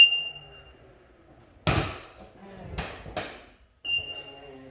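A Hansshow power frunk on a Tesla Model Y shutting, with a motor whir, a solid thud as the hood closes, then a couple of softer clunks, close by in a quiet garage.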